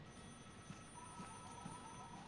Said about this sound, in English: Somebody set off an alarm trap.